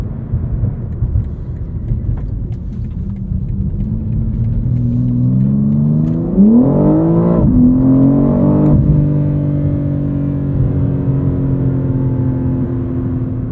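A 2023 BMW M4 CSL with an 8-speed gearbox pulls away from a stop on a city street, its engine note rising as the revs climb, with a gear change midway, then settling into a steady loud drone. No one speaks.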